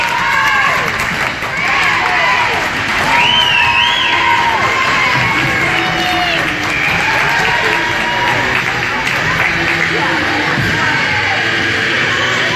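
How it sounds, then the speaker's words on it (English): Fans at a hockey game between Owensboro and Trinity cheer, yell and whoop loudly in an arena after a goal, a sustained roar of crowd noise with whistles and shouts layered over it. "And the crowd goes wild."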